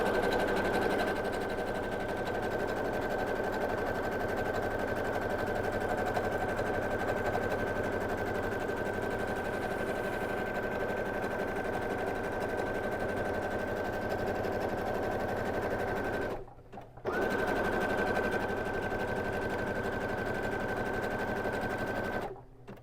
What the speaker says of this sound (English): for this stitch, I am going to increase the speed of my machine